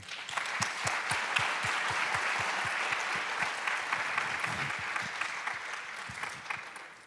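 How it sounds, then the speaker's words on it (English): Warm applause from a conference audience at an opening ceremony couch session, a steady wash of many hands clapping for about seven seconds, moderately loud and even throughout. "I think you both deserve a warm applause at this stage."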